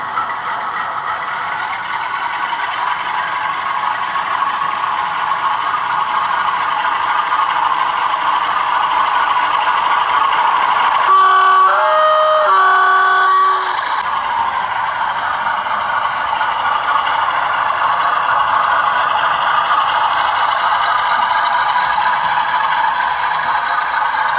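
A Bachmann Class 47 model locomotive accelerates away, a steady mechanical whir and rattle of the running gear holding throughout, with a brief tonal hum of the automatic fan sounds rising midway, close and moderately loud.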